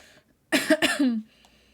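A person coughs twice in quick succession, a harsh throaty burst followed by a longer rasping cough that trails off, close to the mic with quiet room tone before and after.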